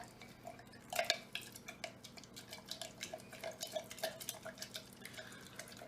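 Hummus ingredients being mixed in a container, giving soft repeated wet clinks and taps of a utensil against the sides, fairly quiet and steady, with no talking.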